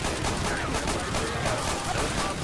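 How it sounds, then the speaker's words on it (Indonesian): Dense, continuous gunfire from Left 4 Dead 2, a steady loud fusillade of rapid shots filling the whole stretch with no pauses. "Gua udah nembakin."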